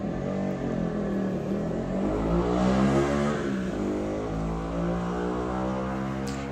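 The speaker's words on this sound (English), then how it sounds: "Hear a motorcycle passing by" A motorcycle passes by outdoors, its engine note swelling to a peak near the middle and fading away again, a steady mid-distance drone with no talk over it.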